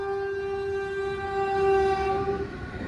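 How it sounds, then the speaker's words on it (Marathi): A train's horn blares in a long steady tone over the rolling rumble of rail cars, fading as it ends. "बघा रेल्वे पण आली आहे"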